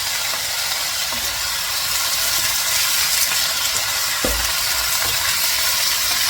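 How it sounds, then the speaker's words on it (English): Chicken sizzles and crackles steadily while being stir-fried in a hot pan with a constant loud hiss, punctuated by occasional scraping stirs. "We're going to stir this around."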